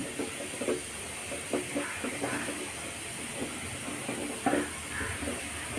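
Vegetables fry with garlic in a pan, making a soft continuous sizzle with light stirring scrapes and small pops, fairly quiet and with no talking.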